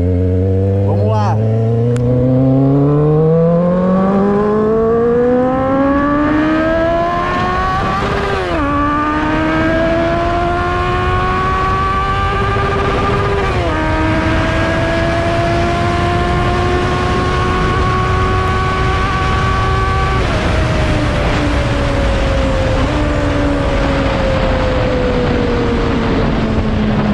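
Kawasaki Z750 motorcycle ridden at high speed, its engine note climbing loudly and dropping at each of several gear changes, all under heavy, constant wind roar.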